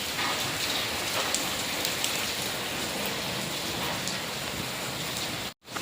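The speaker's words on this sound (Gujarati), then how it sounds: "વરસાદ સવારનો ચાલુ છે ધીમી તારે" Steady rain hisses evenly across the whole stretch, a dense wash of drops on surfaces, briefly cutting out near the end.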